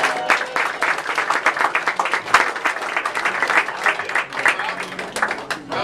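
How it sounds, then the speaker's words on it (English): A room full of people claps for a commissioner at a political appearance by Florida's governor in a Wings Plus restaurant. The applause is dense and lively, sustained for several seconds with fluctuating intensity, and voices are mixed in with it. "Give him a round of applause."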